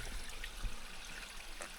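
A mountain spring in the Pyrenees trickles softly over stones, a faint, steady dribble of water with small splashes, heard alone.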